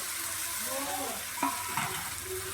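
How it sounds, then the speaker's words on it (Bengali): Jackfruit coated in mutton fat fries in a pan and is stirred slowly, giving a steady close sizzle with a couple of sharp scraping clinks of the spatula against the pan. "আস্তে আস্তে খুব ভালোভাবে কষবো এঁচোরটা"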